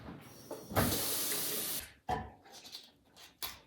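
Cauliflower being rinsed under a running kitchen tap, a loud steady rush of water lasting about a second, then shorter bursts of splashing and handling as the head is turned under the stream.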